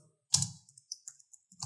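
A few keystrokes on a computer keyboard during a coding session, heard as one sharper close click followed by several lighter, scattered taps at an uneven pace, with no voices.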